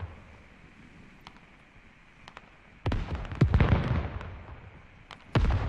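In the game Squad, an artillery barrage lands as a series of deep booming explosions, a few seconds apart and rumbling after each impact, over quiet background noise.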